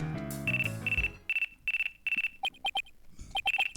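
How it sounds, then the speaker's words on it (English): A phone ringtone from the Phoenix Wright: Ace Attorney - Dual Destinies game on Android, a short melodic lead-in followed by repeated bright electronic beeps in quick bursts, clear and close. "Looks like I have a phone call."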